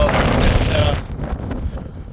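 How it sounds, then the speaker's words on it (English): Wind blowing outdoors at a spot with a pole for mounting an antenna, a steady broadband rush that is loud and close on the microphone and keeps going throughout. "it's quite windy today"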